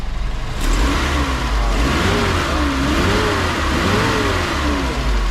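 Nissan Vanette C22 van from 2000 with a 1.5 engine revving steadily as the accelerator is held, a loud continuous mid-pitched engine roar with rising and falling waves, close by and with no talk.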